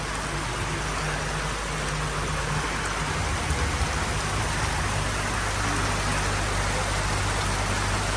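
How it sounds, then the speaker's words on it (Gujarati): Steady monsoon rain during a lightning storm pours down continuously, a dense hiss of drops on surfaces with a low hum underneath. "બાકી અત્યારે આમ જો વરસાદ ચાલુ છે"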